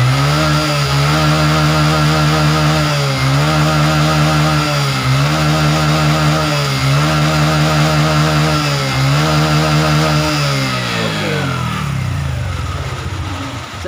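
A Honda Supra 125 FI motorcycle engine with a charging system that will not charge, revved hard and held at high rpm in loud repeated surges with brief dips, then winding down near the end.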